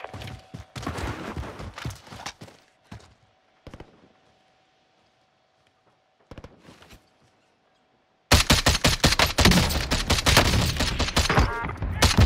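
Player gunfire in Call of Duty: Cold War Warzone: short bursts and single shots broken by near silence, then a loud, sustained stream of rapid automatic fire to the end.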